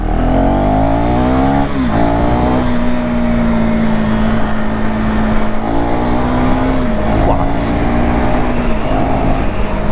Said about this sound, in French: quelle explosivité, punaise, ça repart comme une moto électrique quoi